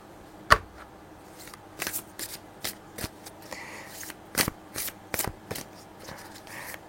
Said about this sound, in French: je vais prendre une autre carte du tarot